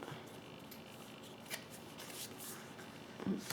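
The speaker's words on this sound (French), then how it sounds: "je vais tirer 4 cartes pour commencer" Tarot cards are shuffled and drawn with a soft, steady papery rustle close by and a small tap near the end, with no one speaking.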